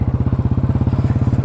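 A motorcycle ridden off-road gives a loud, close, rapid pulsing engine beat with even, regular firing thumps throughout.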